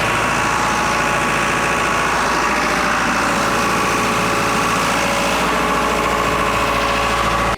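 A John Deere 4045T diesel engine runs with its radiator cap off, a loud, steady, close rumble with a continuous mechanical clatter throughout and no voices.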